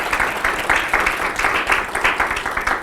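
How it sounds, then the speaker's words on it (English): An audience at a campus meeting breaks into applause. Dense, steady clapping fills a room for a few seconds, loud and close throughout. "Give her a round of applause."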